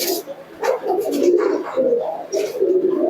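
Giribaz pigeons coo in soft, repeated low phrases close by while feeding, with a few brighter chirps in a quiet room.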